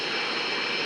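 Simulated airliner jet engines roar in a flight simulator game, a steady broadband whine and rush that holds at a constant, fairly loud level with no voices over it.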